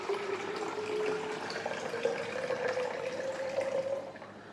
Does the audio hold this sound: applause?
no